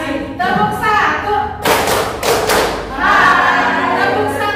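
A group, likely schoolchildren, answers a spoken cue with one crisp unison clap, loud and close, with a few scattered claps trailing it, surrounded by chanting voices before and after.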